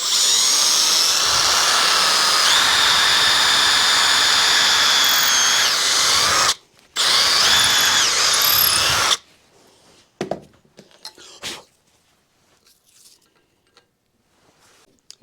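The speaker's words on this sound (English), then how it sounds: "pick out a drill bit that is slightly larger so that you're not screwing down through this wood" A power drill bores a hole into a wooden deer-mount plaque, a loud, close, continuous whine for about nine seconds with one brief pause, followed by scattered quieter handling clicks and knocks.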